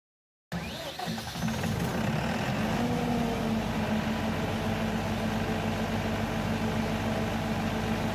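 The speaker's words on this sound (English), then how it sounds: "Let's start the generator and confirm." A generator engine catches after a sudden start and settles into a steady, loud running drone that continues alone, with no talk over it.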